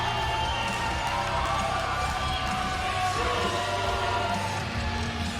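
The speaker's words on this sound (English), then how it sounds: "The crowd showing their admiration for this man." A crowd at a wrestling show cheers and roars continuously, a dense wash of voices with scattered whoops and yells, steady and loud throughout.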